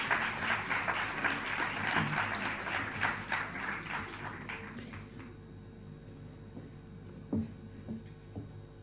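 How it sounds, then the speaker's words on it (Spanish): An audience at an international early-childhood seminar applauds a minister and the rector of the Pontificia Universidad Católica de Chile, with dense clapping that fades out after about five seconds and leaves a quiet room with a few scattered knocks. "Les damos un aplauso."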